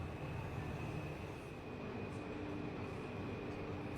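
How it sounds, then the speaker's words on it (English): Steady rumble and hum of a Taipei subway train on the red line riding along the rails, constant and moderately loud with a faint high whine, no voices. "Pretty scenic way of taking the subway"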